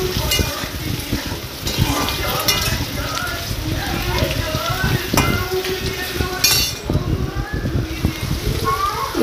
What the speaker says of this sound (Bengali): তার জন্য আমি কড়াইতে আলুগুলো ভেজে নিচ্ছি